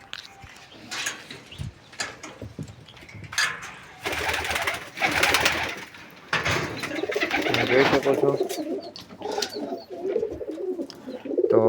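Pigeons coo repeatedly in low, throaty bursts near a nest box, with occasional wing flutters and rustling, while a person speaks briefly over them.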